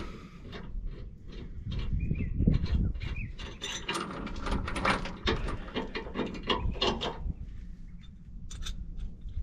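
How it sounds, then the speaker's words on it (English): Caravan safety chains being unhooked from a tow hitch, a string of close metallic clinks, rattles and ratcheting clatter that rises and falls over several seconds, with no talking. "I can undo my chains."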